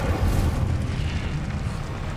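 Incendio, a fire spell in Hogwarts Legacy, bursts out as a roaring, rumbling blast of flame that stays loud and dense for about two seconds.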